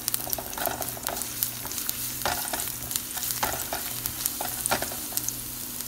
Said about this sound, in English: And then you add the garlic and you saute